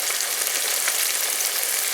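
Eggplant slices sizzle in a hot frying pan, a steady, close crackling hiss with tiny popping spatters, continuous and unaccompanied by talk.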